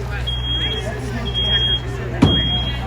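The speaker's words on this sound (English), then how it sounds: "You hear the smoke detector?" Smoke detector alarm sounding during a fire department open house demonstration: three repeated high-pitched electronic beeps, each about half a second long, steady and moderately loud over a low background rumble, with a brief thump near the end.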